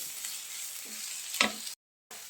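Onions sautéing with curry leaves in a pan for chicken cutlets, a soft steady sizzle with a sharp stir scrape, then a brief dropout before the quiet frying resumes.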